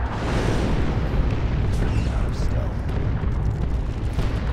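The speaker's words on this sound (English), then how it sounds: "You fired the artillery strike." Continuous rumbling artillery strike explosions in the Dawn of War 2 Chaos Rising strategy game, dense overlapping booms filling the whole stretch, with game voices shouting underneath.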